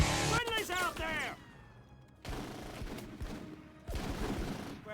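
Rapid gunfire crackles in the Full Spectrum Warrior: Ten Hammers video game, loud overlapping bursts of shots that drop briefly then resume, with shouted voices in the mix.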